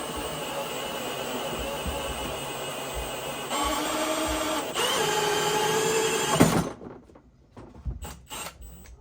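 A 2-inch hole saw bores through a Ridgid box in a steady, grinding whine that intensifies midway, then cuts off abruptly, followed by a few scattered clunks.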